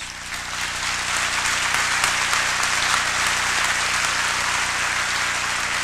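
An audience at a high school commencement applauds, a dense, sustained roar of many hands clapping that swells slightly and holds steady, heard without any voices over it.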